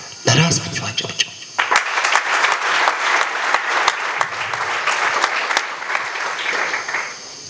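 An audience at a comedy evening applauds themselves, a loud, dense burst of clapping that swells in after a brief spoken moment and carries on steadily, with scattered voices underneath.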